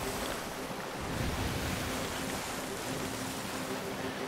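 Wind-driven sailing ship in the video game Sea of Thieves, a steady broadband rush of wind and surf with water washing against the hull, continuous and fairly loud throughout with no talk.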